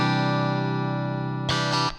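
A sustained, buzzy electric guitar tone drenched in heavy distortion, recorded in a test of Palmer PDI-03 and PGA-04 units, ending in a brief harsher burst before cutting off.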